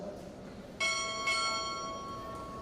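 At a Recruit Training Command Chief Petty Officer pinning ceremony, a ship's bell sounds two bells: a pair of strong, resonant metallic strokes about half a second apart, with a sustained fading ring and faint room murmur beneath.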